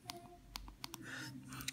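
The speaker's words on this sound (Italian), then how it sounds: "Una volta montato il tasto home, proviamo a sentire il click." Sharp little clicks from an iPhone 6 home button being pressed after reassembly during a screen replacement, several distinct taps spaced irregularly, close and fairly quiet.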